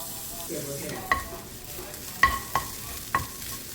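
Boiled fish being mixed in a frying pan, a faint low sizzle beneath a few sharp metallic clinks of the spatula against the pan, spaced out and close by, with no voices.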